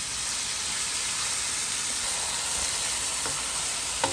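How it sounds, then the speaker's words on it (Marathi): Marinated mutton fries in a pan, a steady loud sizzle and hiss lasting throughout with no break and a few faint stirring clicks near the end. "आणि आता बरें तळसून घेवप."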